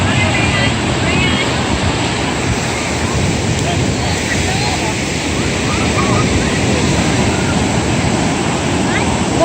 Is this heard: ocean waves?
yes